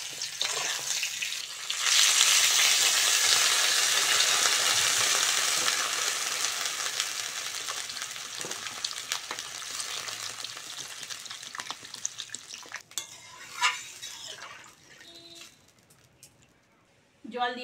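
Water poured into a pan of fried potatoes and pointed gourd gives a loud, broad hiss that rushes up and slowly fades to a quieter simmer, with a few clatters and a voice near the end.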